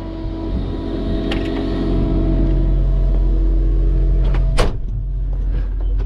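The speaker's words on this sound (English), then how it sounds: "Now I'm gonna get in the ute and take that." A ute engine drives along with a steady low rumble and road noise, rising slightly in the middle, with a brief rattle or clunk near the end, heard up close from inside the cab.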